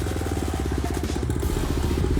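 A motorbike rumbles along in town traffic, its engine putting out a steady close throbbing pulse with light clatter, loud and unbroken, no talking.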